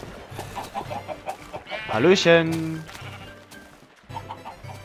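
Chickens cluck in Minecraft alongside a bleating sheep, short rhythmic animal calls running under game background noise with a quick spoken greeting.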